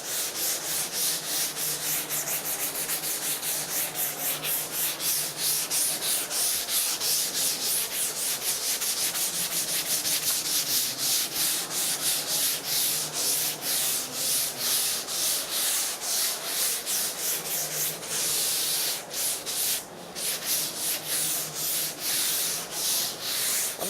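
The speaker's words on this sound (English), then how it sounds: "now we are ready to do a little finish sanding on the deck here" A soft pad finish-sands the deck of a foam surfboard, producing a steady, close, continuous abrasive rubbing with rapid strokes throughout and no talk.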